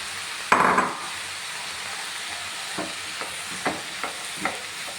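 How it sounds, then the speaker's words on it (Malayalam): Onion, green chilli and carrot sauté in a pan, opening with a short burst of sizzling, followed by soft, sparse scrapes and knocks from stirring, each one quiet and clearly spaced. "ഇനി ഇതെല്ലാം കൂടെ നന്നായിട്ടൊന്ന് വഴറ്റിയെടുക്കാം."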